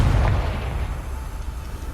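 A Confringo blasting spell bursts in Hogwarts Legacy, a loud close boom with a sharp onset that settles into a long low rumbling tail, no speech.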